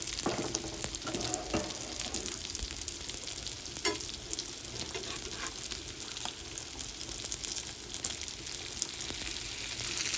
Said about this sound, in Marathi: आपली सुरमई एका साईडून फ्राय झालेली आहे, तर आता जे आहे मी यांना पलटी करत आहे